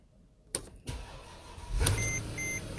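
A Mercedes GL fresh from a transmission swap cranks and catches after a couple of sharp clicks, its engine rising into a steady idle with faint electronic beeps near the end.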